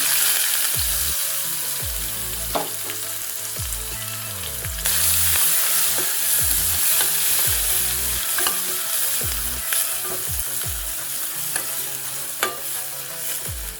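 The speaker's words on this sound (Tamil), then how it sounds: "வெங்காயம் நல்லா வதங்கிட்டோம்" Onions sautéing in oil with dried red chili and asafoetida for dhal curry, a continuous close sizzle with repeated scraping stirs of a spoon across the pan, no talk.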